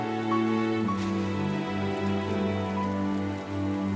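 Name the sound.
rain in video game Punishing: Gray Raven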